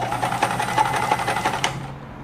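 A Kenmore 1341 sewing machine runs a full-width zigzag stitch, a steady close whirring with a quick, even rhythmic clatter of the needle for about two seconds, then easing off.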